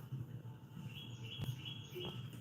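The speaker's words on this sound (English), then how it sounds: "You hear them same birds in South." Faint bird chirps sound from a distance over a soft hum, with a couple of brief tweets standing out.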